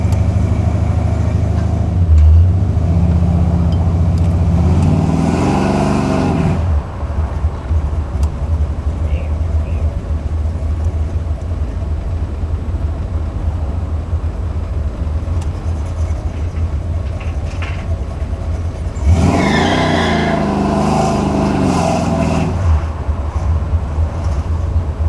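A Buick 455 Stage-1 engine in a Regal-T with a Holley 950 carburetor idles loudly and steadily, with two throttle revs that rise and fall, and a voice talks briefly over the rumble.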